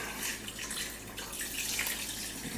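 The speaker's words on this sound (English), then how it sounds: "And I still put some water in it." Water from a tap runs into a bowl of homemade dog food with chicken broth for a German Shepherd, a soft, steady trickle and splash at moderate distance.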